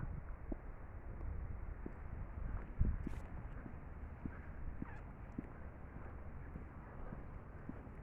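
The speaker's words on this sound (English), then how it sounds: "There's a lot of geese, man, damn." Geese honking outdoors during a walk in the Netherlands, scattered faint calls over constant wind noise.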